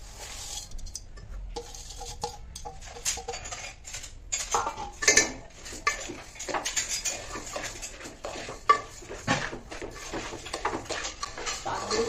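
Raw rice stirred and roasted in ghee in a pan, the spatula scraping and clinking against the metal in an irregular rhythm at moderate volume, close by, with no talk.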